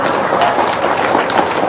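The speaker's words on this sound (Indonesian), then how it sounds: "Tepuk tangan dong." Applause from an audience at a talk, a dense, steady wash of many hands clapping at once, loud and close throughout with no voices over it.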